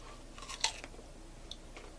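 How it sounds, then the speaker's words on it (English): A crisp crunch comes from biting into a firm persimmon, one sharp snap up close, followed by quiet chewing. "The crunch is also like apple-like too."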